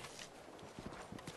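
Horse hooves clip-clop at a walking pace in the video game Red Dead Redemption 2, quiet, evenly spaced soft knocks under a faint ambient bed.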